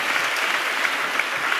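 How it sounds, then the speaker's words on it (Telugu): A congregation bursts into sustained applause in praise of Jesus, a thick, even roar of many clapping hands, fairly loud and close, with nothing else over it. "చప్పట్లు కొడితే యేసయ్యకి స్తోత్రాలు."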